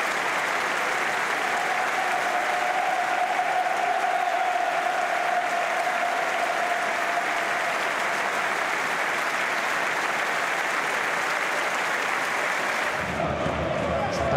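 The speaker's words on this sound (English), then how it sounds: "with a minute's applause" A football stadium crowd at Vicarage Road gives a minute's applause before a Watford versus Millwall match, a dense, steady roar of clapping that fills the whole stretch and cuts off abruptly near the end.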